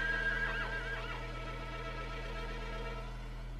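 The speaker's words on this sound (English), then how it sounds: "some horses came along the street where the electric lines had been laid and all of a sudden started getting shocked" Horses on a street give a loud, wavering whinny near the start, followed by fainter neighing calls, all over a steady low electrical hum; no one speaks.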